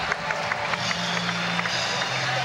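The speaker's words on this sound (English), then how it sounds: "Second standing ovation of the night, and a bit of congratulations there." A capacity crowd at a cycling track gives a standing ovation, with dense, steady applause and cheering throughout and a commentator's voice faint underneath.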